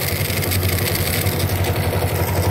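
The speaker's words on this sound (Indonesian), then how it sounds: "desis karbunya sangar" A motorcycle engine idles steadily up close, its low throbbing pulse joined by a constant airy carburetor hiss.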